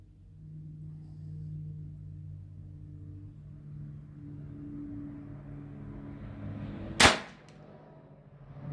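A Cattleman T2 PCP .22 air rifle fires a single sharp, loud shot that cracks out of a low, steady background hum, followed by a quick decay and quiet.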